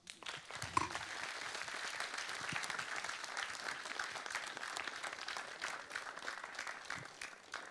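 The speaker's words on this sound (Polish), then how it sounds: "że za to należą im się wielkie brawa" Audience applause for contestants at the Mister Polski 2020 pageant final gala, a steady wash of many hands clapping from a distance, fairly quiet and continuous throughout.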